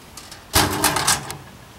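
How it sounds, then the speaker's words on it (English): The handle of an ATM vault door is turned and the heavy door swung open: a short burst of metallic clunks and rattles, close and fairly loud, then quiet. "then you could turn the handle and open the door"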